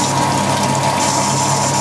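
A Whirlpool washing machine pump drains dirty rinse water after washing towels, a loud, steady gushing whir with a low mechanical hum running throughout, no voices.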